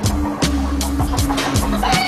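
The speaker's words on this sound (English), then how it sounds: "we got the chickens" Farmyard chickens cluck in short, close, repeated bursts against a steady background noise.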